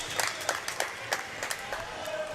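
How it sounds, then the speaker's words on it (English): Audience at a volleyball match applauding after a big kill, a short burst of scattered, fairly distant clapping with crowd murmur. "there is a big applause from the audience"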